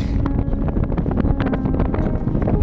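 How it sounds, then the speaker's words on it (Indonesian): Strong storm wind buffets climbers on a mountainside at Mount Rinjani, a constant loud roar and rumble that fills the whole clip with no speech. "Soalnya badainya kencang banget."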